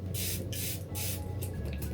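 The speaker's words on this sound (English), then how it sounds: "It is the Airbrush Flawless Setting Spray by Charlotte Tilbury." Charlotte Tilbury Airbrush Flawless setting spray misted onto a face in three or four short, close hissing bursts, each about half a second long, with a steady low hum underneath.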